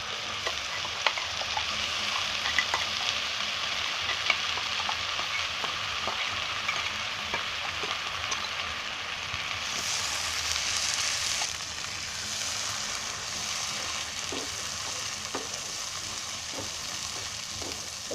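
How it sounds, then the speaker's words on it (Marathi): Ground spice paste fries in oil in a pan for paneer masala, giving a continuous soft sizzle broken by frequent scraping stirs, steady and close with no talk. "ही आता सर्व त्याच्यामध्ये आहे ना मस्त फ्राय करून घेणार आहे"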